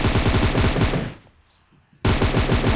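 Rapid automatic gunfire in a shooting video game rattles loud and dense, breaks off for about a second, then resumes just as hard.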